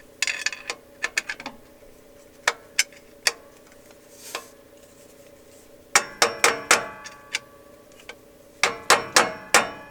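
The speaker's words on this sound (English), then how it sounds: "it needs one more good whack" Hammer whacks on a 2006 Jeep TJ A/C compressor part, sharp metallic knocks in irregular bursts, some single and some in quick runs of four or five, close and fairly loud.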